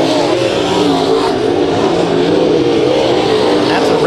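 IMCA Modified race cars roar past at the finish line of a heat race at Kings Speedway, engines blaring loud and continuous with shifting pitch as they sweep by, with crowd noise underneath.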